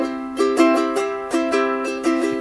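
Ukulele strummed in a steady 4/4 pattern, bright ringing chords repeating in even groups, close and clear with no voices.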